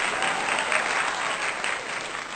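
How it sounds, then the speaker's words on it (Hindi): Loud, sustained applause from a mushaira and kavi sammelan audience in Hyderabad welcoming poet Aadil Rasheed, a thick continuous roar of many hands clapping at a steady level. "जोरदार तालियां बजाकर इस्तकबाल करें।"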